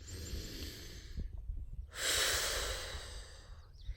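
One deep breath, slowly drawn in and then let out in a long, airy exhale, close and quiet over a low background hum.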